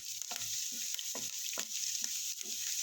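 Onion and red chili powder frying in oil for a stuffed brinjal dish, a steady close sizzle broken by several soft scraping stirs of a spoon through the pan, with no voices.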